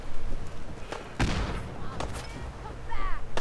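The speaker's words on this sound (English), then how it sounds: "Where are they shooting from?" Scattered gunshots ring out in the video game Fallout 4: a few sharp cracks and thuds spaced irregularly over background game ambience, moderately loud.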